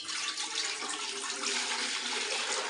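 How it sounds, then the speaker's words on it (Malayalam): Water poured steadily into a cooking pot on the stove, a continuous close splashing stream with no talk, as chicken marinade water and several cups of plain water go in for steaming kuzhimandi. "അതിലേക്ക് നമുക്ക് കുറച്ച് വെള്ളം ഒഴിച്ചു കൊടുക്കാം"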